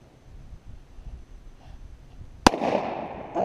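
A single sharp gunshot cracks out on a farm, close and loud, after quiet rustling, followed by a lingering rumble and echo.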